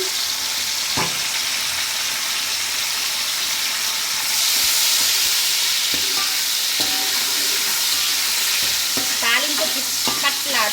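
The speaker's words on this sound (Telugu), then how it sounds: "ఆనియన్స్ పచ్చిమిర్చి గోల్డెన్ బ్రౌన్ కలర్ వచ్చిన తర్వాత టమాటాలు వేసేసుకుందాం" Onions and green chillies fry in a pan for biryani with a steady, close sizzle. Scraping stirs and light utensil clinks join in, and the hiss grows louder partway through.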